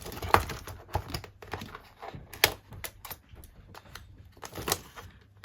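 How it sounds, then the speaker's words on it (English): An X-Acto knife cutting a stencil: a close series of small irregular clicks, scrapes and ticks as the blade drags and snaps through the material, with brief pauses between cuts and no talk. "All I do is take my kind of X-Acto knife thing"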